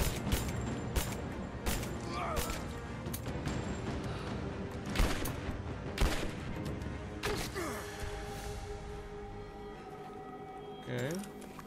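Shotgun blasts ring out in Rise of the Tomb Raider, a string of loud sharp booms at irregular intervals amid clattering game effects, with a player talking over the action.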